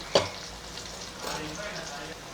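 Ginger garlic paste frying with onions in a pan as a soft, steady sizzle, with one sharp knock of a spoon near the start and faint stirring scrapes later, while a voice murmurs quietly in the background.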